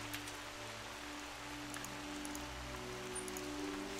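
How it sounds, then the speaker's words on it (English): Steady rainfall in theHunter: Call of the Wild, a soft, even patter across the whole stretch under a faint low hum, with no talking. "why is it raining 2 days in a row?"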